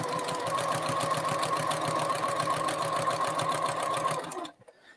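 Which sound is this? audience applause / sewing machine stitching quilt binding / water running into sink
sewing machine stitching quilt binding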